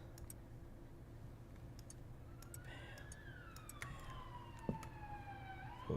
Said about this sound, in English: Police sirens going off.